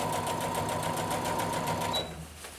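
A sewing machine stitching a tank top, running steadily with a fast, even motor whir and rapid needle rhythm before slowing and stopping near the end.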